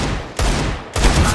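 Two loud bursts of gunfire in the video game CS:GO, each a rapid volley of shots, separated by a short gap; close and punchy, with no talking.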